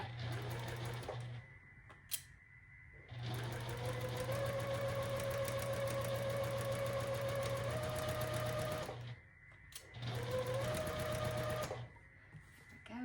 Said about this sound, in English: having this seam tape really does help me keep a 1/4 inch seam